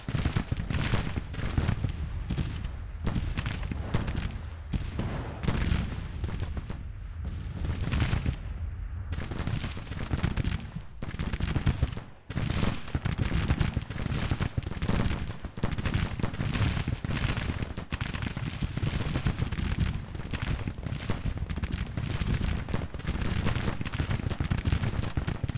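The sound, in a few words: rifle fire in a Civil War video game battle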